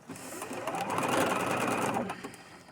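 A sewing machine runs in one smooth burst, motor whirring up, holding a steady rapid stitching hum for about a second, then winding down as it stitches over a pin while sewing a boho fairy skirt from upcycled fabric.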